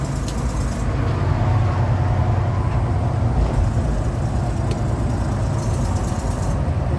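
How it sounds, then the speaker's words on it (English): An old Western Express truck's engine brake with a new transmission speed sensor gives a loud, steady low rumble that holds without a break from start to finish. "The engine brake comes on a little sooner."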